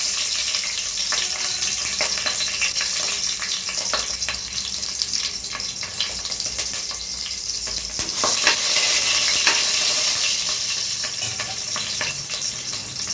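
Green chillies sizzle as they drop into a hot mix of oil and ghee for tempering a mutton kurma, a steady close crackle with sharper spits and pops, alone without voices.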